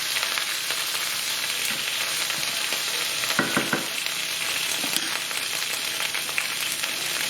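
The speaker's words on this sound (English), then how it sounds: "Give it a nice stir." Chicken korma frying in a pan, a steady close sizzle with scraping stir strokes in the middle, alone and without talk.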